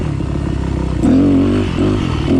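A 4-stroke dirt bike engine revs hard during wheelie practice, a loud close roar that idles, then climbs in pitch and surges twice more.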